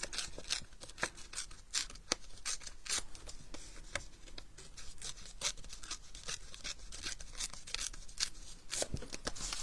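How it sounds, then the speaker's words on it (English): Patterned paper scrap being torn along both sides by hand, a run of dry crackling rips and short crisp snaps close to the microphone, uneven in rhythm with no voice over it. "I've got a little scrap of the same patterned paper,"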